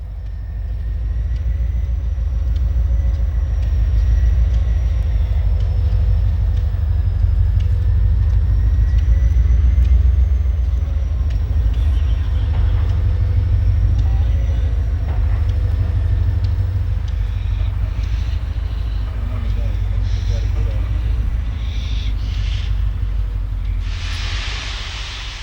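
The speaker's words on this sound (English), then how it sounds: "The steam engine will pull the passenger special to Columbus." An Ohio Central steam locomotive pulling a passenger special rumbles loudly and steadily nearby, deep and continuous, with a thin high whine above and a hiss rising near the end.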